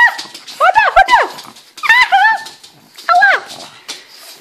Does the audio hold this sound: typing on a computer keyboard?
no